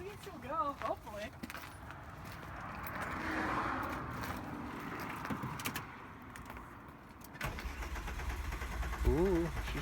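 A 1990 VW Corrado with a swapped-in VR6 engine, left sitting in a field, cranks and sputters as it tries to start, with keys jangling and people talking over the uneven engine noise.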